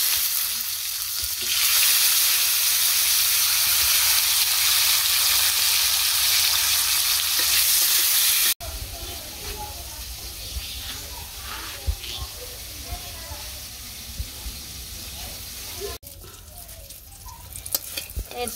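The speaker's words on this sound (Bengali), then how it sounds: "এই তো পটল ভাজা হয়ে গেছে নামিয়ে নিই" Pointed gourd (potol) slices frying in oil in a pan: a loud, dense sizzle runs steadily for several seconds, then drops to a quieter crackle with scattered stirring sounds after an abrupt cut.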